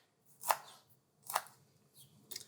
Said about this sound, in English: we're going to crush and rough chop a clove of garlic